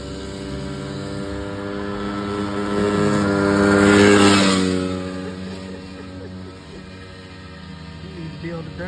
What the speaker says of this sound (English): They ran their dirt bikes.